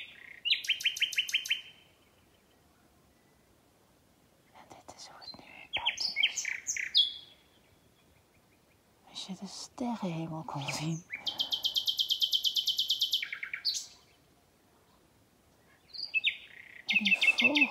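Birds sing loudly just after midnight in bursts of bright, rapid chirping and trilling phrases separated by short quiet gaps, close and clear, with someone speaking softly once.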